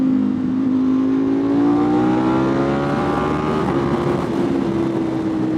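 A modified 2025 Ducati Panigale V4 motorcycle revs up steadily and loudly close by, its engine note climbing in pitch with layered harmonics over a constant roar, with no talking.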